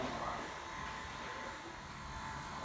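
A vacuum pump evacuates a car's air conditioning system during a service and regas, giving a steady, moderately quiet buzzing hum that runs throughout.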